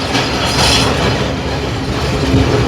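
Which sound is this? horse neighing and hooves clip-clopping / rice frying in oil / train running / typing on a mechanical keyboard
train running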